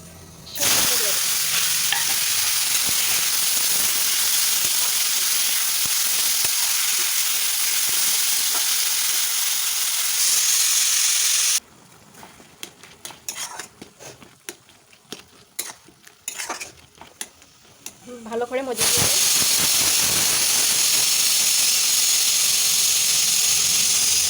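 Panch phoron spices crackle and sizzle loudly in hot oil in a pan, a steady, close hiss broken midway by quieter scraping and clinks of stirring before the sizzle surges back.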